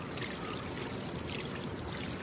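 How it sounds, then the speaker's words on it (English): Water swirls and churns steadily in a prototype gold pan, a continuous close, moderately loud rushing and trickling wash with no voices. "The water's coming up through the middle, getting forced out to the edge and over the top, and so is all the dirt, just like a centrifuge"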